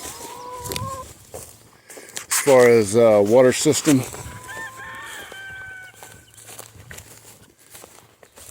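Pastured hens cluck and call in the background of a small farm flock while a person talks, with a loud bird squawk bursting out briefly near the middle.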